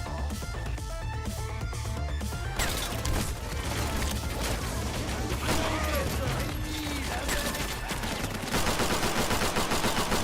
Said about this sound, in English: I did just shoot the guy